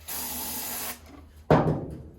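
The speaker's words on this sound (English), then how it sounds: "Spray a little ether in it." Ether starting fluid is sprayed into an Ariens 624 snowblower engine that won't run, a steady close aerosol hiss for about a second, then a brief pause and a sharper louder spray burst that tapers off.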